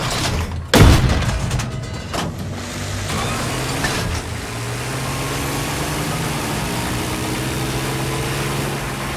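A tank in the video game Battlefield 6 fires an armor-piercing round: one loud, close cannon blast near the start, then a steady low engine rumble runs on with a few softer thuds further off.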